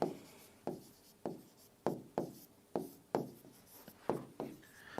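A pen writes a note by hand during a maths lesson, its strokes close and quiet, scratching in a steady rhythm of short bursts about every half second with nothing else around.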